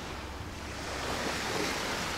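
Sea waves wash on an open shore at Phi Phi, Thailand, a steady, soft broadband surf with some wind buffeting the microphone, continuous and fairly distant, with no voices.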